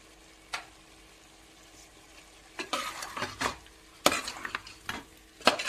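Chicken fry in a traditional Chikmagalur style, seasoned with garam masala and cumin powder, is stirred in a pan: a soft steady sizzle with scattered scraping strokes, growing busier toward the end.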